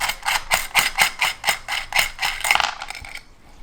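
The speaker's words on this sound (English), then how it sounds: "Take off the hex nuts," Hex nuts come off the terminal posts of a Hamolar 50A ANL fuse holder, giving a quick series of close metallic ratcheting clicks in an even rhythm that slows and fades out near the end.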